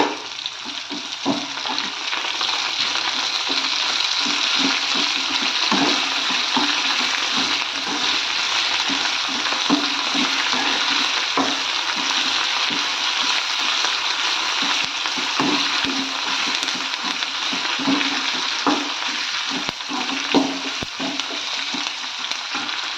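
Curry leaves frying in a pan of hot oil with a small half-ripe green tomato, a loud continuous sizzle broken by sharp crackles and pops scattered throughout.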